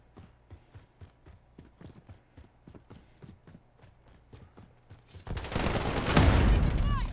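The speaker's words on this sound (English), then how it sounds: "they're shooting now" Gunfire in Call of Duty Warzone erupts as a sudden, loud, dense volley of shots near the end of the clip, after a stretch of rhythmic footstep-like clopping on the game soundtrack.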